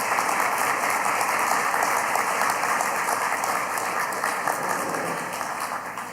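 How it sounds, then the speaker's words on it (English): An audience at a candidates forum claps in a steady, dense round of applause that holds loud and even throughout and eases slightly at the end. "would you join me in giving them a rousing round of applause?"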